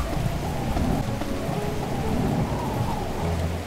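Heavy rain drums without pause as low thunder rumbles beneath it, a loud, sustained video game thunderstorm heard on its own without talk.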